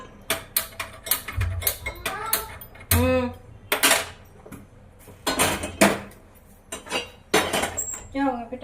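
Pots and steel utensils clanking on a kitchen stove as a pot is moved onto another burner while dal and roti are cooked, with repeated sharp clinks and scrapes in an irregular rhythm.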